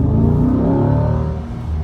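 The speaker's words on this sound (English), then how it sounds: "It just wants to rev hang and hold those RPMs." A Chevrolet C8 Corvette engine revs hard and holds high RPM, loud and close from inside the car, then eases slightly at the end.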